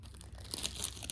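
Metallic wrapping paper crinkles and tears faintly as it is pulled open, in short soft rustling bursts with no talking.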